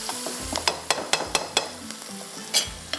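Chopped tomatoes stirred and fried in a pan for sev ki bhujia, with a steady background sizzle and a series of sharp spoon scrapes and clacks against the pan, close and fairly loud.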